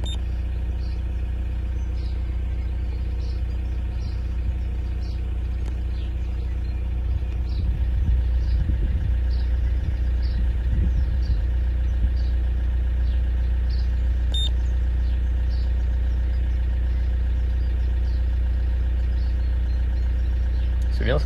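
A 2005 Toyota RAV4 D4D diesel engine idles at a steady, constant speed with a low, even drone and faint ticking clatter throughout, heard close by, while someone talks over it partway through.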